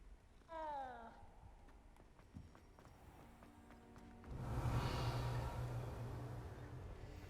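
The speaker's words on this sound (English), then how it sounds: "Pet the kitty." A cat in the video game Hogwarts Legacy gives one clear, rising meow when petted, followed by soft game ambience and a louder swelling background texture. No talk is present.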